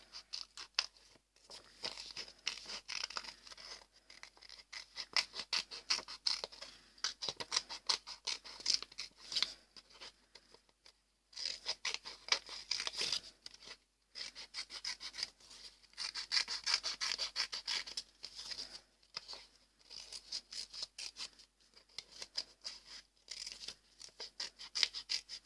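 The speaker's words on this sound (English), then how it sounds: "now we will need to cut the template with a pair of scissors." Scissors cutting a paper bat template, close quiet snipping and rustling strokes in irregular bursts with brief pauses between cuts.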